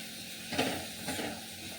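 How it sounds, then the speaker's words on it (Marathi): Sprouted moth beans (matki) sautéing in spices in a pan, a soft steady sizzle with two brief scraping stirs, faint and close. "मसाल्यांमध्ये मटकी थोडी परतून घ्यायची"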